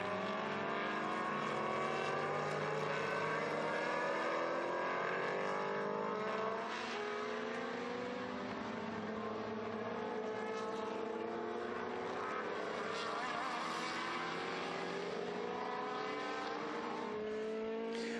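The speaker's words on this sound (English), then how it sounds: "Patrick Jack driving the red T70 there, running out way over the curbs" Historic race cars, including a red Lola T70, racing at the Estoril Classics, with loud engines screaming past one after another and pitch sweeping up and down as they accelerate, continuous and dense with no talk.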